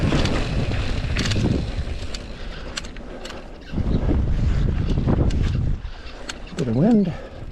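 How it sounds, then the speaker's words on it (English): Gusty wind blowing over a microphone outdoors at the Klondike Bluffs in Moab, rumbling in waves that fade and return, with a brief vocal sound near the end. "Bit of wind."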